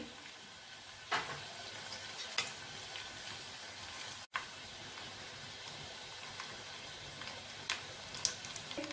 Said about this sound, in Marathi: हा लसूण टाकून घेऊया। लसूण आपण सोलून ठेचून घेतलेला आहे। त्यामध्ये कढीपत्ता, एक चमचा मोहरी